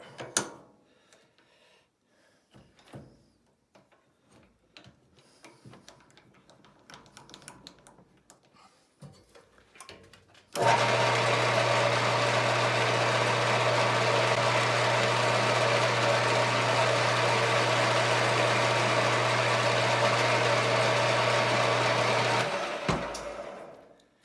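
A metal lathe cuts a chamfer on a homemade tap follower, a steady loud machining whir with a low motor hum that starts abruptly and runs continuously for about twelve seconds before stopping, following quieter workshop clatter.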